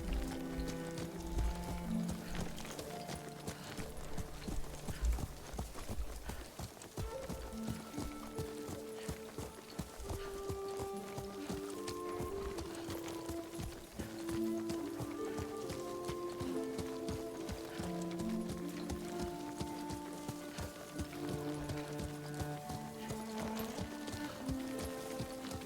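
Horse hooves clop steadily while riding in the video game Ghost of Tsushima, rhythmic and moderately loud under an orchestral music score, with no talk.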